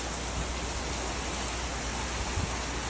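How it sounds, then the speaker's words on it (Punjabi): Heavy rain with strong wind pours down outside in a steady, dense hiss that stays even throughout, with no voices. "ਬਾਹਰ ਮੀਂਹ ਦੇਖੋ ਤੁਸੀਂ ਬਹੁਤ ਜ਼ਿਆਦਾ ਜ਼ੋਰ ਦੀ ਮੀਂਹ ਹੋ ਜਾਂਦਾ"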